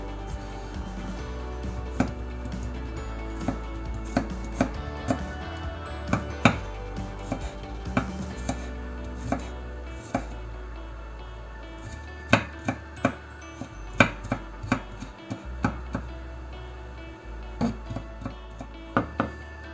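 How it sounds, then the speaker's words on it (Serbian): A knife chops garlic on a board in irregular sharp taps, some clustered and some spaced, with a low hum underneath and no talking. "I iseckat ćemo ovaj beli luk."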